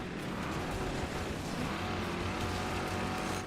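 A steady car engine drone in the racing game Wreckfest, a continuous, even roar that holds at one level throughout with no talking over it.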